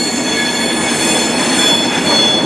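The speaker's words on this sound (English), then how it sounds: "this is a Class 390 Pendolino off to London Euston" A Class 390 Pendolino electric train bound for London Euston rolls through Glasgow Central station, a steady close rumble with wheel squeal and a high tonal whine running throughout.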